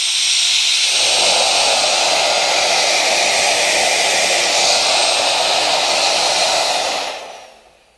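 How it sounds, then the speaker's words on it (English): CNC router spindle engraving text, a loud steady high-pitched whine and hiss that holds for several seconds, then winds down and fades as the spindle slows. "So I'm just waiting for the spindle to stop."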